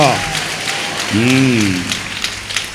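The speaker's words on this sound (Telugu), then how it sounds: "గట్టిగా చప్పట్లు కొట్టండి" A church congregation claps loudly through a brief burst, with a voice calling out over the applause.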